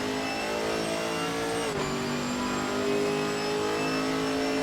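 A Chevrolet Camaro GT4 race car in Assetto Corsa Competizione at Donington Park, its engine droning steadily loud with a brief pitch drop from a gear change before revving back up, no talk.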